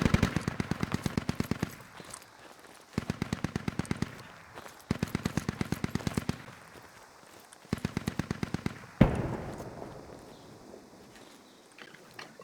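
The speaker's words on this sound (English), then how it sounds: "that's enemy MG" Enemy machine gun fire in the military shooter game Squad: several rapid automatic bursts of a few seconds each, separated by short pauses, followed by a single louder crack, heard at mid distance with no talk over it.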